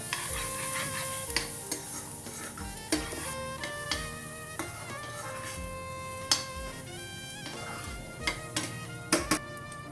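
Fennel seeds fried in a pan while being stirred, with soft sizzling under spaced spatula scrapes and taps, plus a faint ringing background hum, close and fairly quiet.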